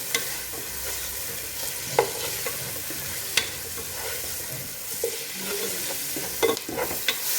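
Chicken masala sautéing in a pan with coriander, turmeric and Kashmiri chilli powders, a steady broadband sizzle broken by several sharp scraping stirs of the spoon, close and moderately loud with no voices.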